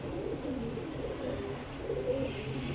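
A Sialkoti female pigeon coos softly among other birds, low throaty murmurs blending into a steady ambient background with faint chirps, close and continuous.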